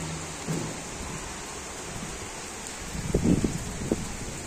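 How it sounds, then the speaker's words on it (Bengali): Heavy monsoon rain falls in Dhaka city as a dense, steady hiss, with a low rumble of thunder swelling briefly near the end. "খুব সুন্দর বৃষ্টি।"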